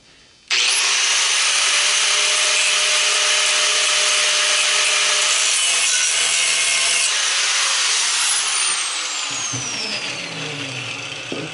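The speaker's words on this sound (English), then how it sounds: "Angle grinder time." An angle grinder cuts a slot into an old water well pump, a loud, continuous high-pitched metal-grinding whine that starts abruptly and holds steady for about ten seconds, easing slightly toward the end.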